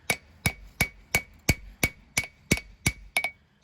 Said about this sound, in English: Switched over to my smaller hammer and kind of start shaping it out a little bit better.